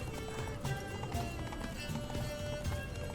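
Roach the horse gallops in Witcher 3, with steady, rhythmic hoofbeats running continuously at moderate volume over a busy game soundscape.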